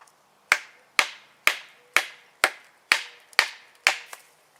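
An LT Wright Bushcrafter flat-grind knife chops into maple wood with eight sharp, evenly spaced strikes, each a crisp close impact with a short fading ring, no voices.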